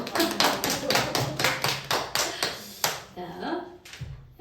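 Church congregation clapping together in a rhythmic run of sharp, evenly spaced claps, fairly quiet and close, fading into scattered claps and a brief voice toward the end.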